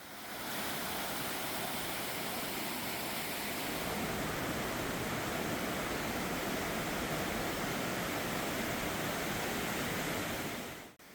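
Steady broadband rush of a mountain valley stream flowing beside a mostly flat trekking trail near Wonju, loud and continuous with no voices, fading out at the very end.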